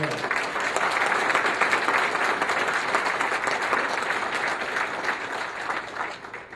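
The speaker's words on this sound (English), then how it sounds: "Big round of applause at 580 KIDO." Audience at a town hall meeting in Idaho on the Second Amendment breaks into steady, sustained applause. The dense clapping holds for about six seconds and then tapers slightly at the end, with no one talking over it.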